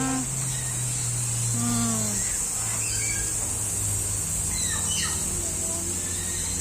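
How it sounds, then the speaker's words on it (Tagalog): Many birds call and chirp at once, with rising whistles, descending squeals and clipped tweets overlapping constantly atop a steady high insect-like drone, fairly close and busy throughout, with no talk. "Daming ibon."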